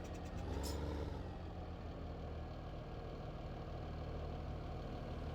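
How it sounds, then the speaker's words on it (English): A Claas Axion tractor in Farming Simulator 15 idles with a steady, low diesel rumble. The sound is close but fairly quiet, with a brief clatter at the start and no talk over it. "You gotta love them wandering tractors."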